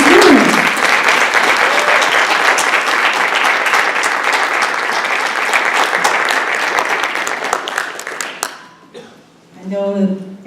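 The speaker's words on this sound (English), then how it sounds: "Let's have one big round of applause for all of our graduating students." A large crowd applauding graduating students at a fall convocation ceremony, sustained dense clapping that fades out near the end before a voice speaks.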